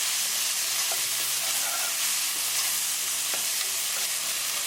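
Tomatoes being stirred in a cooking pot for a red kidney bean rajma dish, with a continuous bright sizzle and hiss of frying and a few faint scrapes of the utensil against the pot.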